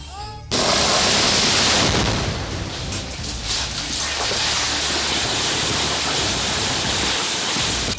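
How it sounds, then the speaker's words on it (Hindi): A rock-blasting explosion: a sudden loud broadband blast that quickly turns into a sustained roar of debris and rumble lasting several seconds, close and overwhelming, with no voices. "ये धमाका बारूदी बम का नहीं बल्कि चट्टान को तोड़ने के दौरान का है"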